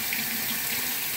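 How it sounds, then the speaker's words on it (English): Water runs steadily from a tap into a sink while hands are washed under it, a continuous close hiss with no talking. "let me wash my hands."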